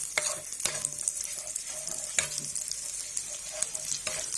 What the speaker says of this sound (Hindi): अब अदरक लहसुन का पेस्ट ऐड कर देंगे। लाइट ब्राउन कलर करेंगे।